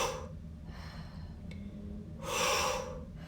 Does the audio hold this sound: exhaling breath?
yes